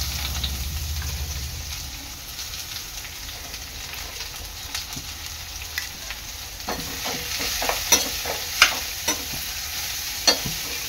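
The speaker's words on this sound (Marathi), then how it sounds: "आता ह्यामध्ये मी टाकणार आहे आपली कोबी" Cabbage stir-fried over high gas in a pan with onions for veg spring rolls: a steady sizzle with scraping stirs that grow louder and sharper toward the end, no voices.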